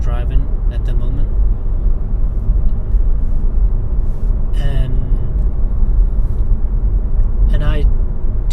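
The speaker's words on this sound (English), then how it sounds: "It's pretty loud in the background because I'm driving at the moment" Steady, loud car road rumble from inside a moving vehicle on a night drive fills the whole stretch, a constant low roar with a couple of brief whooshes as other traffic passes, and a person talks over it.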